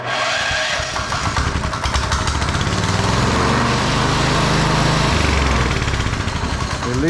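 A TrailMaster MINI XRX go kart engine, previously fought with a stuck choke, runs steadily and loudly up close, a buzzing small-engine drone that holds evenly for several seconds with a brief voice underneath.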